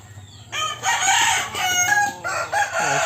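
A rooster crows loudly and close among backyard chickens on a Filipino family farm, the long strained call rising and breaking, with short clucks from the flock around it.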